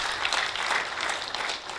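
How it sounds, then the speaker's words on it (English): Audience members at a forum applaud the panelists, a brief burst of dense, steady clapping from a crowd, close and even across the whole moment. "May we have a round of applause for the entire set of panelists"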